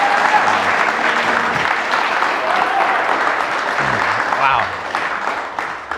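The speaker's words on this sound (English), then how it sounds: "Can I have a little round of applause for that?" A live studio audience gives a sustained round of applause, dense and steady from start to finish, easing slightly near the end, with faint voices underneath.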